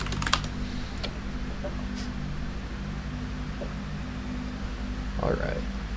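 Computer keyboard keys tapped while entering a password during a software install, faint scattered clicks over a steady low hum, with a short burst of typing near the start.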